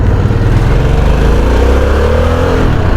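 Harley-Davidson Sportster motorcycle with no windshield, its engine rumbling steadily and close by for the whole stretch, with a loud, dense low-end drone and slight rises in pitch.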